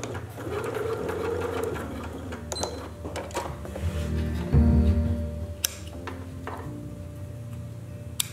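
A sewing machine stitches a zipper seam in several close whirring runs, stopping at a notch for a brief backstitch burst, with small clicks between runs.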